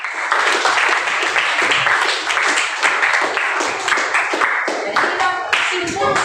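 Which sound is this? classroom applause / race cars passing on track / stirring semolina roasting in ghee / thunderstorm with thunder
classroom applause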